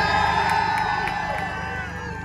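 At a street car meet at a NASCAR event in St. Louis, a large outdoor crowd cheers and whoops loudly for an Audi. The noise comes as one sustained burst and then slowly fades.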